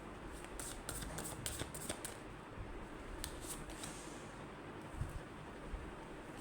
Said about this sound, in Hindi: मैं एक बार और शफल कर लेती हूँ, अगर आना होगा तो आएगा